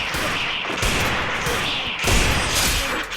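Dense gunfire rattles through a shooting video game, with bursts and heavy shots layered close and loud, one sharper burst partway through, and no voice over it.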